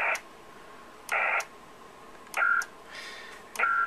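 Digital data tones from a distant station answering an email connection over a Yaesu FT-817ND portable ham radio, short bursts of bright warbling tones repeating about every second over faint static hiss.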